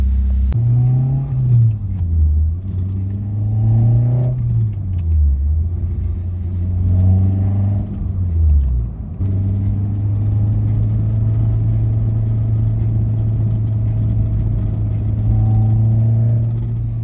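A freshly installed Toyota 4AGE 20v engine idles in a car, loud and close, with its pitch rising and dipping through several blips before settling into a steady, even hum.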